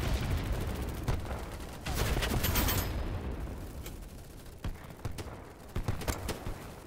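Single-shot gunfire in BattleBit Remastered: sharp, separate reports spaced irregularly over a noisy battlefield background, with a louder burst of fire partway through and no talking.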